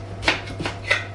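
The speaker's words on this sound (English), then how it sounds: "You grab one of them, chop it into 4." Knife chopping a peeled onion into quarters on a board during a home cooking class: three crisp, separate cuts spaced about a third of a second apart, close and clear over a steady low hum.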